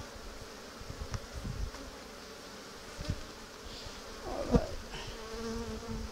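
Honeybees buzz steadily throughout a beehive inspection, a continuous droning hum with occasional nearer passes, mixed with handling bumps and a brief remark from a man.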